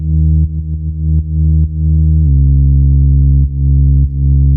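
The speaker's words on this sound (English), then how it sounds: "listen to the bass now" Synth bass line follows a drawn rhythmic pattern: a few short repeated deep notes, then longer sustained tones with brief gaps, loud and clean with no voices.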